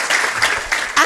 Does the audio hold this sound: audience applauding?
yes